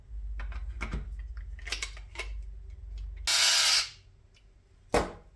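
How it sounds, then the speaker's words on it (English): Stainless steel screws driven by hand into a plastic doorbell backing plate: faint low rumble and scattered clicks, then a loud burst of rasping friction lasting about half a second, and a short sharp scrape near the end. "we'll take 2 of our stainless steel screws and screw them"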